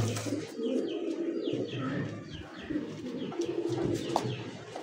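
Pigeons, including an orange-coloured chila breed, cooing nearby in low, rolling repeated calls, with some faint chirps from other birds and no talk.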